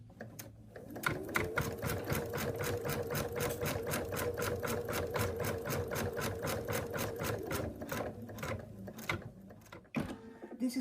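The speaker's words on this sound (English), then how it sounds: "Next it's going to sew a line down the middle" An embroidery sewing machine stitches a placement line through fabric and stabilizer, giving a steady rapid needle clatter over a motor hum that runs for several seconds, then stops, followed by a few clicks.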